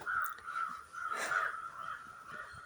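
A crow caws repeatedly outdoors, harsh calls sounding clear and fairly close over faint background ambience, with no talking.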